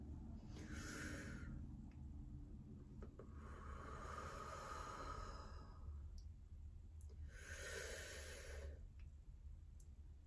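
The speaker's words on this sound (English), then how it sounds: "So today we're just gonna do 3 deep breaths" Three deep breaths in a calm home art-class setting: each one is a slow, hushed inhale followed by a long, audible sighing exhale, spaced a few seconds apart and close to the microphone.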